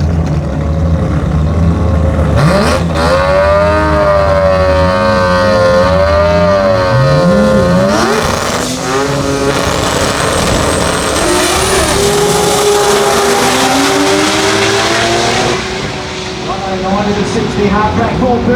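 A Pro Turbo drag racing car at the Garrett Brisbane Jamboree roars down the track as its turbocharged engine climbs steeply in pitch through the gears. An announcer talks loudly over the run.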